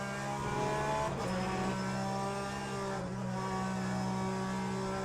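A Porsche race car engine in the racing sim Le Mans Ultimate holds a steady, sustained drone with two brief dips at gear shifts, loud and continuous without any talk.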